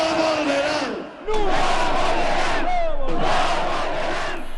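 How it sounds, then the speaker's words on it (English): A large crowd at a political rally in Cochabamba, Bolivia, supporting Evo Morales chants a rhythmic slogan in unison, loud and massed, with a brief dip between repetitions. "The right will not return, chanted the president and the crowd"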